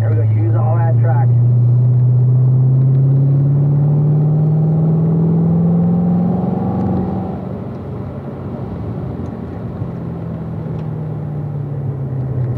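A race car laps a wet track in the rain, its engine holding a steady drone that rises gradually in pitch under acceleration. A voice speaks briefly at the start.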